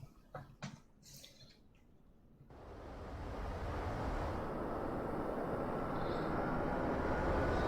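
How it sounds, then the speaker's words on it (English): A MiG-19P Farmer jet heard from the cockpit in DCS World: a few clicks, then a steady muffled engine roar building and holding, fairly quiet and smooth. "Sounds quite quiet in the cockpit compared to outside view."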